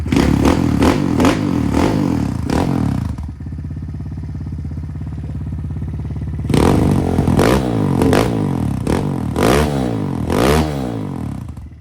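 A Kawasaki KLX110L dirt bike with a 155 stroker engine and Bills big bore exhaust revs hard in repeated sharp bursts, settling into a rough idle between, then blipping up and down again, loud and close.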